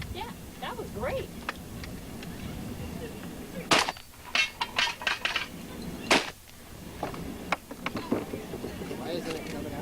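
Sharp blank-round gunshots crack out at a tactical shooting match, several distinct bursts scattered irregularly and ringing fairly close, with people talking throughout the outdoor scene.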